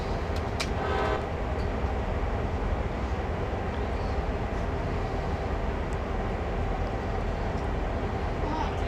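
A CSX heavy-haul freight train in Train Sim World rumbles steadily along with a continuous, heavy roar and a faint tonal hoot near the start, loud and close throughout.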